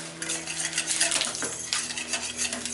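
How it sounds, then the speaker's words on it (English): Spoon clinking and scraping against a pot or bowl while stirring a chuck roast recipe mix, a busy run of close metallic taps and rattles with no talking. "Mix it up."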